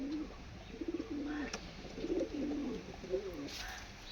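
A pair of Malbai pigeons, a yellow-eyed female and a white-eyed male, coo in several soft rolling phrases close by, with brief quiet gaps and faint background noise.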